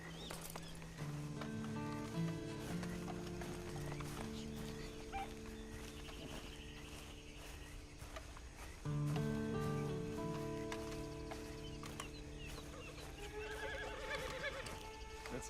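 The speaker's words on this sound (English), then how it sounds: "Then you better get on this horse." Horse neighing and hoof clip-clop in the Western video game Red Dead Redemption 2, with a loud whinny near the start and again near nine seconds over a steady layer of game ambience and music, no voices.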